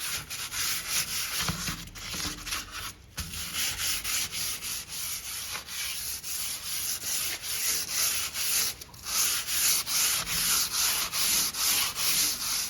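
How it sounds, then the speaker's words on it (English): Steady, rhythmic sanding strokes scrape back and forth across rusty metal, loud and close, with a few brief pauses. "You don't have to sit here for 10, 15 minutes sanding this."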